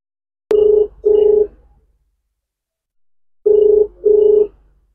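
A telephone ringback tone sounds as an outgoing call connects: a sharp click, then two loud, steady double-pulse rings separated by a long pause of silence.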